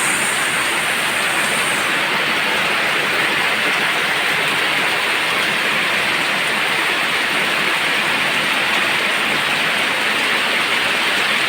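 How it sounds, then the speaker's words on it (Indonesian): Heavy rain pours over Balikpapan on a dark late afternoon, a dense, steady roar of downpour that stays loud and unbroken throughout with no voices. "Balikpapan hujan deras."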